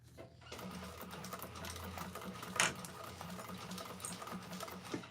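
A sewing machine basting fabric pockets onto a bag lining, its steady, continuous stitching hum running throughout with a brief louder clack midway, no speech.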